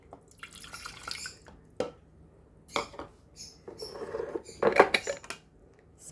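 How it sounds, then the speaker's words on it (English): Two lemons are squeezed by hand for a sauce, and the juice drips into a dish. Scattered soft drips and small wet splats come in irregular bursts, quiet and close, with a few faint clinks of kitchenware. "for our sauce, I squeeze the 2 remaining lemon"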